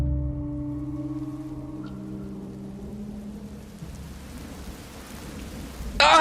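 Heavy rain hisses continuously with a low rumble of thunder, steady and enveloping, then swells suddenly louder at the very end.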